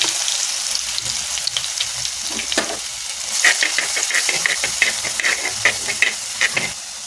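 Small onions and fenugreek seeds hit hot coconut oil in a pan, giving a close, continuous bright sizzle and hiss with crackling pops and stirring rattles throughout.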